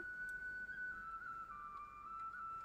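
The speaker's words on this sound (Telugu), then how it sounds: "కుక్కర్ మూత పెట్టేసుకొని 5 to 6 విజిల్స్ వచ్చిందాకా కుక్ చేసుకోవాలి" A pressure cooker, cooking rice on a medium flame, lets out a long, steady whistle that holds one shrill, slightly wavering tone throughout, faint and continuous with no talk.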